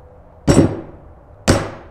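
A framing hammer strikes a nail twice while setting it into a solid door, each blow a sharp, close, loud thud spaced about a second apart, with no voices.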